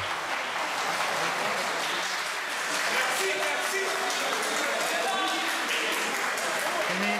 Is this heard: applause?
yes